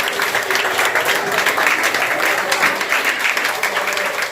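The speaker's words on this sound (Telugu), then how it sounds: "గట్టిగా అండి చప్పట్లు కొట్టడం" An audience at a Ganesh Chaturthi gathering gives loud, sustained applause, a dense and even roar of clapping hands that fills the whole stretch.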